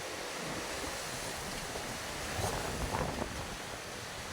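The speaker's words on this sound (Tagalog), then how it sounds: "Ayan, tubig inaapaw." Steady broadband rush of water spilling and overflowing from a broken PVC pipe during a typhoon, continuous and fairly close, with a slight surge in the middle and no talking.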